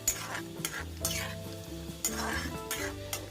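Red chili and cumin seeds fry in hot oil while a spoon stirs the pan, giving a steady sizzle broken by regular scraping strokes of utensil against the pan.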